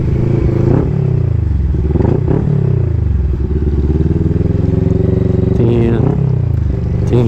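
Motorcycle ride near Tagaytay: a loud, steady engine drone with shifting pitch and some rattling clatter from a bumpy road, close and continuous, with voices mixed in.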